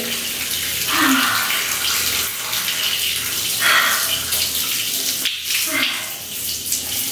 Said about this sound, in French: Premier truc, je me mouille les cheveux. Donc je vais les laver à l'eau froide.